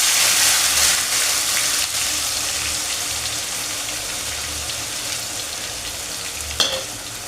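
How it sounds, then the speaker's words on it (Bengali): Onion paste from four large onions hits hot oil with a bay leaf in a chicken curry pan, giving a loud, steady, hissing sizzle throughout, with a brief sharper spatter near the end. "এবার আমি 1 কেজির জন্য আমি 4টে বড় পেঁয়াজ পেস্ট করে রেখেছি, সেটা দিয়ে দিলাম তেলের মধ্যে।"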